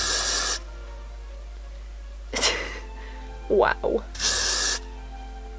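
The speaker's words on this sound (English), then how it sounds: "I hate hairspray. I just hate it." Bursts of hairspray from an aerosol can during a makeup session: three loud, broad hissing sprays of about half a second each, with a short spoken exclamation between them.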